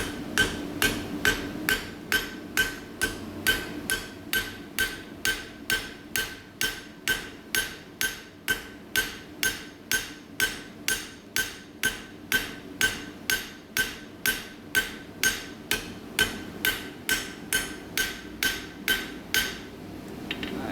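A hammer strikes a chisel over and over, cutting a line into metal, each blow a sharp bright ring in a steady, even rhythm of roughly two strikes per second, close and continuous.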